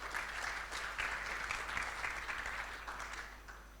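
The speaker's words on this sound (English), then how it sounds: "A round of applause for our panelists, please." Audience applause for a conference panel at an Asia-Pacific business summit, a steady dense clapping from a large crowd that holds at an even level throughout with no break.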